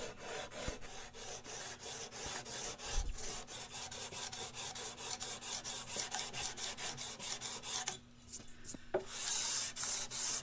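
Sandpaper of 220 grit on a 12-inch radius block rasps back and forth over the frets of a vintage Hohner Shark fin guitar, a fast, even run of close scratchy strokes with a brief pause near the end.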